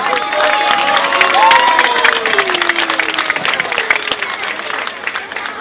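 A crowd claps and cheers for the two winning female competitors at the Letni Puchar Bieszczadów award ceremony in Zagórz. The dense applause is loud at first and slowly fades, with voices mixed in.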